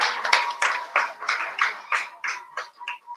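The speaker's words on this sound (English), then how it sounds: "let's give the all 6 students a hearty round of applause" School audience clapping for six student speakers at a public speaking competition, a steady run of moderately loud applause with no voices on top.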